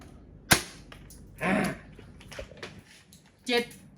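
A custom black CNC MB08D airsoft sniper rifle, tuned to around 700 fps, fires a 0.20 g BB in one sharp, loud crack near the start. Voices and brief handling noises follow.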